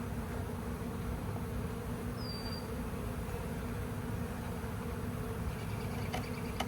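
A honeybee swarm being moved into a new hive gives off a steady, dense buzzing close by, continuous and even throughout, with a brief higher whine from a single bee passing near.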